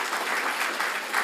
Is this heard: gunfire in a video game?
no